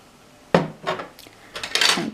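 An old caramel jar being picked up and set down, giving a few sharp hard clinks and scrapes at close range, spaced out over a couple of seconds.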